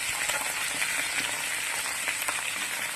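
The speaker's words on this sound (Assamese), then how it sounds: "উৰহীখিনি বইল হোৱালৈকে অলপ ভাজি লৈছোঁ।" Hyacinth beans (urohi) fry in a pan with salt and turmeric for a chutney, a dense, even crackle and hiss that runs the whole few seconds without a pause.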